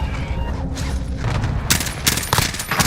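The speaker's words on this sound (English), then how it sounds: "They get shot at by another team." Bursts of gunfire in the video game Warzone as a squad on a rooftop is shot at by another team, starting after a mechanical rattle and continuing as several sharp, loud shot clusters in the second half.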